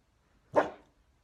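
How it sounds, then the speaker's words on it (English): A single sharp dog bark, close and fairly loud, standing alone against near silence. "you can hear my dog barking now"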